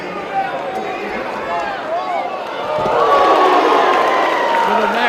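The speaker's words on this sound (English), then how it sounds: "Little mat return gets the crowd excited" Spectators at a men's college wrestling dual meet between Indiana and Oklahoma cheer and whoop, the crowd noise swelling louder partway through beneath a commentator's steady play-by-play.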